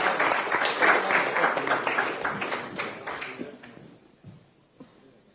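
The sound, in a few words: audience applause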